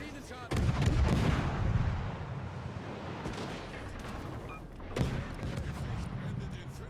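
Continuous heavy gunfire and explosions from a mech combat video game, loud and dense throughout, with a sharper blast near the end and a faint voice in the background.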